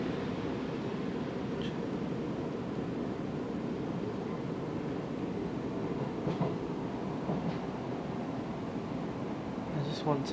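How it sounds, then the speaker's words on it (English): Onboard an SWR class 707 electric train between Sunnymeads and Datchet: a constant, loud rumble of running gear and cabin noise with faint clicks over rail joints, heard close and continuous throughout. "I'm filming the trains leaving Sunnymeads on board going to Datchet."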